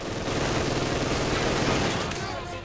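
Sustained, rapid MG42 machine gun fire from the real-time strategy game Company of Heroes 2 forms a dense, continuous rattle over the battle noise, fading slightly at the end.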